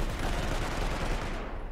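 Battlefield 4 gunfire, a dense continuous roar of rapid automatic shots, loud and close, fading slightly at the end.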